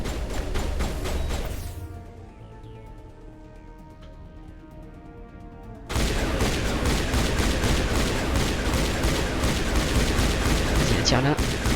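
Dense rapid gunfire rattles in the Mass Effect video game, loud and sustained, breaking off for a few seconds of quieter ambience before resuming in heavy bursts, with game voices mixed in.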